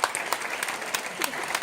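Scattered clapping from an awards-ceremony crowd, with a few distinct sharp claps standing out over a thinner patter of hands, brief and moderately close.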